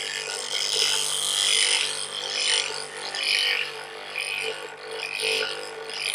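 Worn woodworking chisel ground on a sharpening system under light pressure to restore its primary bevel: a steady, close, hissing grind that swells and fades in repeated strokes over a low motor hum.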